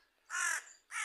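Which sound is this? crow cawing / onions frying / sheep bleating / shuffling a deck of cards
crow cawing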